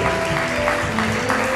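Congregation applauding and cheering in acclamation to God during a church testimony service, a dense continuous wash of clapping with crowd noise and a steady tonal hum underneath.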